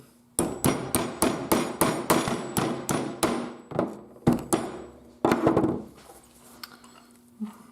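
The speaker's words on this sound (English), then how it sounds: "then just beat it in with a little hammer." Steady, rapid hammer blows on metal as a sleeve is driven into a leaf spring eye on a Jeep YJ, a dozen or so sharp strikes in a regular rhythm, then a few slower, spaced hits, loud and close.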